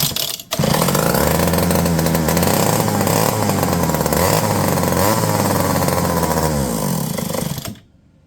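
A McCulloch 30 Series chainsaw with a faulty fuel system runs loud and close, its engine roaring and revving unevenly for about seven seconds, surging and dipping as if starved then flooded, before cutting out abruptly.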